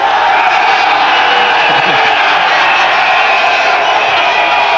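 A stadium crowd roars at a Pakistan versus New Zealand cricket semi-final, a loud, unbroken wall of cheering and whooping from many spectators that stays constant throughout.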